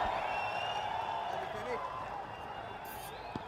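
A stadium crowd at a Nepal versus West Indies cricket match roars in a steady, sustained wash of cheering and applause, heard from a distance under commentary.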